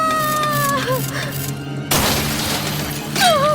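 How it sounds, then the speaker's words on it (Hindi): A mirror cracks and shatters in a dramatized ghost story: a sudden loud crash of breaking glass cuts in midway and spreads into a rattling burst, with strange tonal wails before and after. "तभी आईना अपने आप चटक कर टूट गया"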